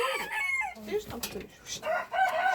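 A chicken clucks and squawks in a quick run of short, wavering calls near the listener, with brief gaps between bursts.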